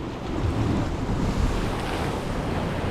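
Sea water surging into a cave and churning in the hollow space, a constant low rushing roar with wind buffeting close by in rough weather.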